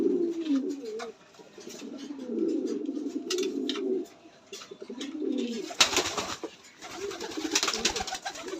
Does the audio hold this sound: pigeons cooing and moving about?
yes